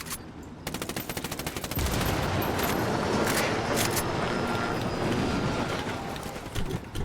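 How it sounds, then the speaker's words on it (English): A mortar barrage fires in a military shooter video game, with rapid rhythmic thumps building into a dense, continuous roar of blasts and explosions, loud and close. "Mortars away."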